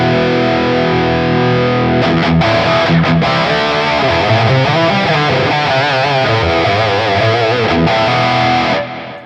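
A Line 6 Metallurgy pedal on its modern distorted setting drives a loud, saturated electric guitar through a continuous riff of chugging chords and sustained notes that ends in a fading ring.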